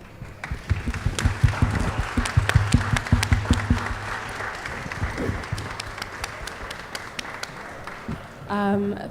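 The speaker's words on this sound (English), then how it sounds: "we could just applaud you and thank you" An audience claps for the artists at the end of a panel discussion on Black criticism. The claps are loud and distinct at first and then thin out into a quieter patter. Brief talk is heard near the end.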